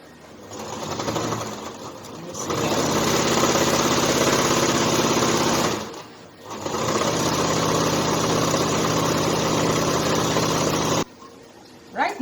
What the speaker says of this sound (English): just place it 1/4 inch and then you just keep sewing it